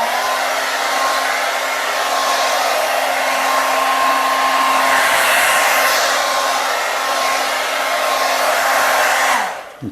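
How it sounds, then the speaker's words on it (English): A hair dryer blows continuously to flash off fresh paint on a helmet, a loud steady whirring roar with a constant hum that runs nearly ten seconds before switching off. "We'll use our hairdryer."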